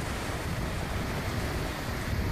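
Rough sea waves churn at a harbour mouth in strong wind, a dense, unbroken roar of surf and gusts, loud and close with no voices.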